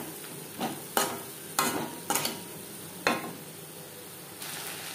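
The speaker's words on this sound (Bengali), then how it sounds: "পেঁয়াজের সাথে মাছের তেল বেশ ভালো করে মিক্স করে দেবো।" Onions are mixed with fish oil in a pan for a Bengali fish-oil chorchori: a soft constant sizzle with about five sharp scraping stirs spaced roughly a second apart.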